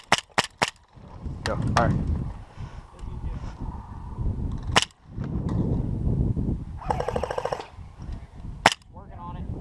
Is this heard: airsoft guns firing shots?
yes